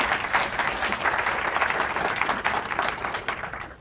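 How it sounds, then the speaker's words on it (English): A lecture audience applauds warmly just before a physics lecture on metamaterials and invisibility. The clapping is dense and continuous at a steady loud level, then fades at the very end. "You may clap."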